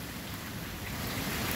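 Heavy rain pours steadily in Guajará-Mirim, Rondônia, during the October rainy season, a dense, continuous hiss of drops on surfaces that swells slightly toward the end, with no voices present.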